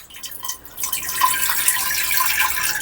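A small amount of water pours into a pressure cooker, a steady trickling splash that runs close and fairly loud for a few seconds with no talking.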